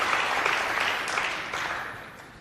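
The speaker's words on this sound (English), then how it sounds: "Stand by for a huge cheer for Neil Robertson." Snooker crowd applause for a 147 maximum break by Neil Robertson, steady dense clapping filling the hall, loud and sustained, then slowly tapering.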